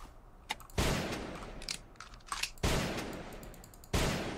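Three loud, close sniper rifle shots in the ZombsRoyale.io battle royale game, spaced more than a second apart, each a sharp crack with a decaying tail, with faint clicks between them.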